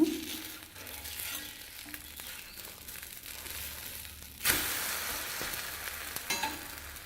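A dosa sizzles in sesame oil on a pan with a continuous crackling fry; midway a sudden louder burst of sizzle rises as the dosa is flipped, then settles into brisk frying.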